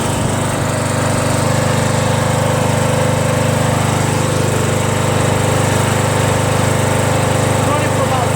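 Craftsman 21-inch self-propelled mower with a 6.5HP Tecumseh engine runs at a steady, loud, buzzing idle close to the listener, with no change in pitch throughout.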